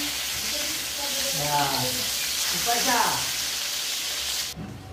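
Saray and lapu-lapu fish fry in a pan, a close continuous sizzle and hiss, while a voice talks briefly over it.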